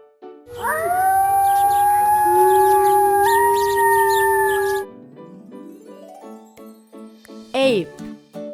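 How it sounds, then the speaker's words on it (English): A wolf howl in an educational clip about animal sounds: one long, loud, sustained howling tone that wavers slightly in pitch, followed by a softer rising sweep and a brief sharp call, with no speech. "wolf"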